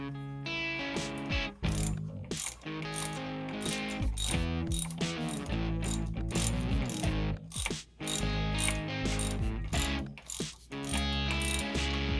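Hand ratchet tightening bolts on the thermostat housing of a Dodge Challenger Hellcat, a steady run of close, loud clicking pawl strokes with brief pauses between bursts.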